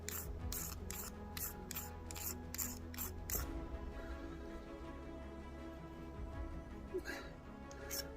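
A ferro rod is scraped repeatedly on a cold spring night at a hammock camp, about seven quick close rasping strokes followed by quieter fumbling and two fainter scrapes.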